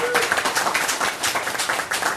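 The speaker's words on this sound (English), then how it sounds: "a round of applause to this amazing scout" A crowd at a La Verne city council meeting applauds a local scout with steady, dense clapping that holds at an even level throughout, with a voice mixed in.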